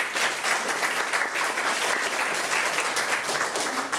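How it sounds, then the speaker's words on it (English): An audience at a community reader's theater evening in a library claps enthusiastically, with a thick, continuous patter of many hands that holds steady throughout. "let's give the library a round of applause"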